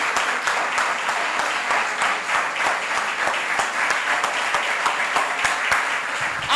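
A church congregation applauds steadily, a dense and loud wash of many hands clapping together that holds evenly throughout, with no talk over it.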